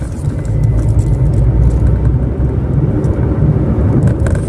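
Manual car engine held at 2000 RPM in third gear while driving through traffic, a steady loud low rumble with road noise running continuously throughout.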